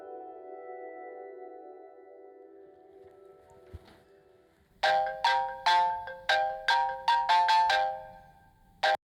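A phone ringtone for an incoming call plays loudly as a series of about eight sharp, evenly spaced melodic bursts after a quiet sustained tone.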